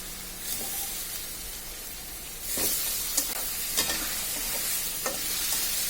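Hilsa fish head dropped into hot oil, the sizzle swelling suddenly and then holding as a steady hiss, with a few sharp spattering pops and stirring clicks.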